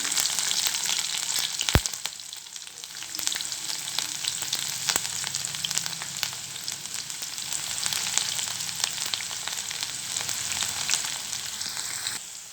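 Onion pieces fry in hot oil in a pan while okra fry is being made, producing a steady, close sizzle with crackling pops and a couple of sharp clinks from stirring, continuous throughout with no talking.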